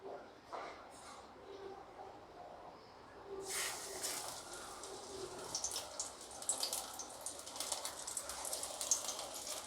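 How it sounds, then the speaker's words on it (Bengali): Battered topse fish deep frying in hot oil, a steady hiss that swells into loud, dense crackling and sputtering partway through as the pieces hit the oil, close and continuous with no talking. "তেলটা গরম করে নিয়েছি, এবার এগুলোকে ডিপ করে করে ভাজবো।"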